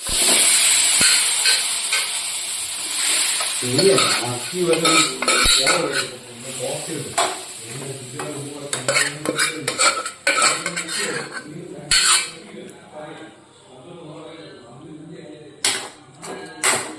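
A metal spoon scraping and clattering in a large pan as cooked beef is stirred, with irregular knocks and a soft sizzle underneath.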